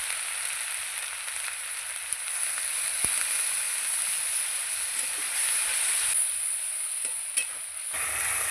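Water poured onto ginger, cumin, garlic and onion paste in a very hot kadai sets off a steady hiss and bubbling steam, close and continuous, with a few faint clicks from the pan and no speech.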